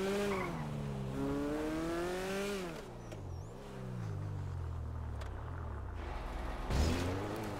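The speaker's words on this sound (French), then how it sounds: "j'aime bien le moteur, ça fait un peu penser à une voiture que je connais quand j'accélère." Grotti Stinger classic sports car accelerating in GTA 5, a loud, close engine whose pitch climbs and falls through several gear changes, with a brief tire squeal near the end and no voices.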